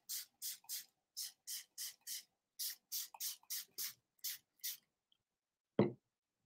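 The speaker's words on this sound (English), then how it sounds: "spray with water" A spray bottle fires more than a dozen quick hissing squirts of water onto an autumn wreath in uneven bursts, close and clear, followed by a single sharp knock.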